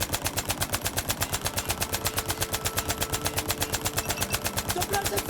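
Sustained automatic gunfire from a Sterling submachine gun with an extended magazine in the video game Insurgency: Sandstorm, steady evenly spaced shots at a slow rate, loud and continuous.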